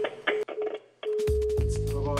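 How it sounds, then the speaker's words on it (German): Steady telephone dial tone on a landline after a loose plug with no proper contact is replaced, a continuous hum that starts abruptly after short bursts of other sounds and holds loud and unbroken to the end. "Ein konstantes Freizeichen ist die Folge"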